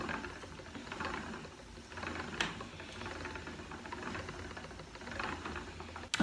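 A spinning wheel twisting wool yarn onto its bobbin during long-draw spinning, giving a soft, quiet rhythmic whirring and clicking of the treadle and flyer that continues steadily throughout.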